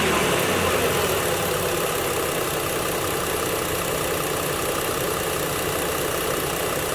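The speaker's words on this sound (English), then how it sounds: "Okay, so now we got the car on" A Ford car engine idles during an EVAP canister purge valve replacement, a steady close mechanical hum and rattle holding constant for the whole stretch, with no talking.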